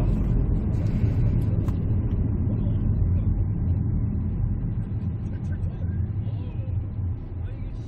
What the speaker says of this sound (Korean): 고속에서도 탄력주행이 기가 막히네요